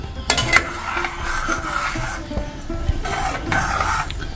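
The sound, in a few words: stirring undrallu payasam gently in a pot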